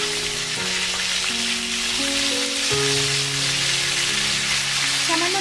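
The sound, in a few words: cauliflower pieces frying in oil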